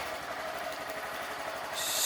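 A Honda Grom motorcycle with a modified air box idles close by, a steady low pulsing thrum with faint engine clatter, holding even for a couple of seconds.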